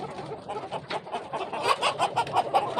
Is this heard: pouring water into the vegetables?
no